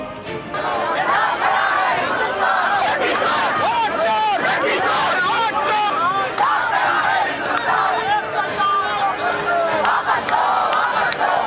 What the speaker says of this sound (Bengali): কয়েক পা এগোতেই দিল্লি পুলিশের ব্যারিকেডের বাধা পেয়ে সেখানে স্লোগান দিতে শুরু করেন টিম ইন্ডিয়ার নেতারা